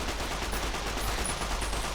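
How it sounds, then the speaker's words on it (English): A big gun firing in the post-apocalyptic game Fallout: New Vegas, heard as a dense, loud rattle of rapid shots over a deep rumble for a couple of seconds. "The big gun went off or whatever."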